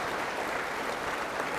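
A church congregation applauds the singers at an HKBP service, producing a steady, even wash of many hands clapping at once, continuous and fairly soft, as if heard from somewhat back in a large hall.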